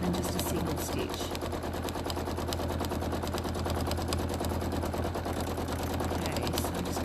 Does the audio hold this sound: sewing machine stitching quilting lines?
yes